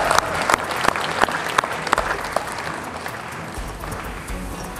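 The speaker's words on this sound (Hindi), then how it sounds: "जोरदार तालियां" Applause from the audience at a Hindi poetry and humor event, with dense clapping and several sharp claps standing out early on, then settling into a steady roar for about five seconds.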